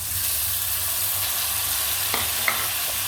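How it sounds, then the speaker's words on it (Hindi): Tomatoes fry in a pan while a spoon stirs them, a steady loud sizzle throughout with a few faint scraping knocks of the spoon near the end, close by and with no voices. "अच्छे तरीके से अपने इसमें चमचा हिला लेना।"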